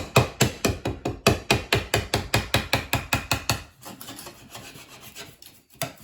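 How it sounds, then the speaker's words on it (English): A sharp putty knife is driven under the edge of a sink set in a granite countertop, giving a fast run of rhythmic rasping scrapes up close, then quieter, irregular scraping. "You take a sharp putty knife and drive it under."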